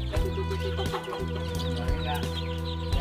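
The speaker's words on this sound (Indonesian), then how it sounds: "Pada takut sama saya ayam ini." Free-range village chickens clucking steadily close by, several birds overlapping in a busy, continuous barnyard chatter with a few louder squawks.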